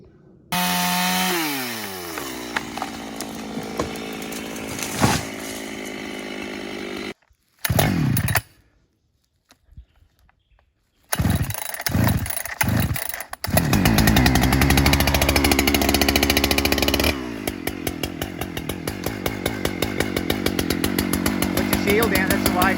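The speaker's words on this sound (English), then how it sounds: "let's just do some bucking now and enjoy" Chainsaw bucking large hard gum firewood timber, loud and close, with long revving cuts broken by idle pauses and a short quiet gap.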